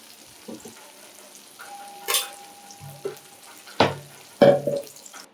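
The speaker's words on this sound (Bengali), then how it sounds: "পনিরগুলো হালকা করে ভাজবো, খুব বেশি কড়া করে ভাজবো না" Paneer cubes frying lightly in oil in a pan, with a soft sizzle broken by several louder stirring scrapes and clatters of a utensil, close by and without talk.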